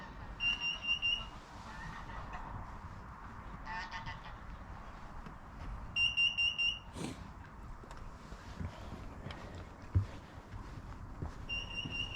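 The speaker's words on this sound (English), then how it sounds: "So that beeping coming from Superior Gem 2" Faint, repeated electronic alarm beeping from a moored boat on the Norfolk Broads in December comes in short bursts of tones at intervals, distant, over a low murmur of outdoor background noise.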